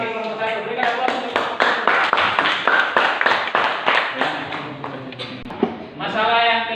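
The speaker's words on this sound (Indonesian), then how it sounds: "Berikan aplaus untuk" Classroom applause for group 1, a burst of many hands clapping in an uneven rhythm for several seconds, close and fairly loud, with voices cheering and talking over it.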